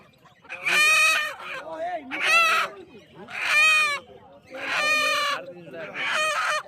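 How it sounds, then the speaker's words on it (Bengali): Chickens at a busy market cluck and crow loudly in five long, drawn-out calls separated by brief pauses, close and clear, with faint clucking underneath. "এদিকে আছে মুরগি, এদিকে আছে মুরগি।"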